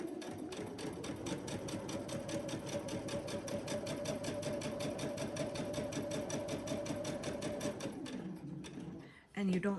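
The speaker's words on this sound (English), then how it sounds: "And then we're going to sew from this corner to this corner." A sewing machine chain-sews fabric strips together for a jelly roll rug, running steadily and rapidly for about eight seconds before stopping, close and clear, with a brief handling noise at the end.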